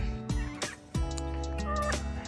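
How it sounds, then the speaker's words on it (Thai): Clucking, warbling calls from a chicken close by, a few short bursts over a low steady hum, with no talking. "เราก็ปล่อยไก่คิวกี้ของเราออกมาเดินเล่น"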